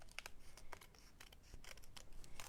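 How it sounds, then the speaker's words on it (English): Scissors trimming paper edges for a handmade birthday card, a series of quick, close, crisp snips at an irregular rhythm, fairly quiet and with no talking. "Actually, I'm just going to use my scissors and trim"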